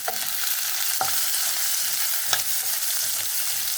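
Food sautéing in a pan over a low flame, a steady close sizzle with a few scraping stirs of the spoon standing out, no voices.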